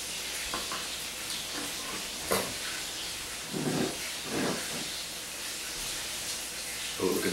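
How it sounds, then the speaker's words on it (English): Chicken frying in a pan, a steady sizzling hiss running throughout with a few brief louder pops. "rest of the chicken frying away."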